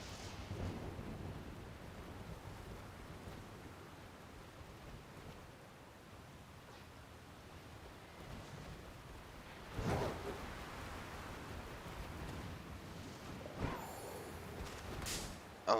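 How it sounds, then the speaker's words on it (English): Rain with rumbles of thunder in the Pokemon Scarlet video game, a steady quiet hiss of rainfall with a few louder rolls breaking through, heard alone without talk. "Oh, and it's raining."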